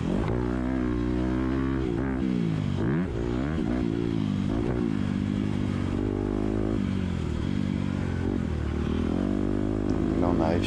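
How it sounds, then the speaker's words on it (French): A motocross motorcycle rides a dirt track, its engine droning loudly and continuously with rising and falling pitch as the throttle is blipped, wind buffeting throughout and a voice talking over it. "à chaque fois, je mets un petit coup de gaz"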